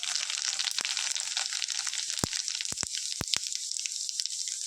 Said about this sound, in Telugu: ఆయిల్ హీట్ అయింది. ఇందులో జీరా ఉన్ను మన ఆవాలు వేసుకుంటాను.